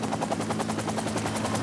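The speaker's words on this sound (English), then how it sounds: "Then the helicopter took off," A helicopter taking off makes a loud, steady, rapid rotor chop with a deep engine drone underneath, close and continuous throughout.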